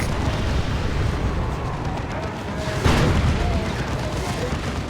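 Rocket Run explosions tear through a Warhammer 40k Dawn of War 2 multiplayer battle, a continuous rumbling barrage with one sharper blast near the middle amid dense battlefield noise.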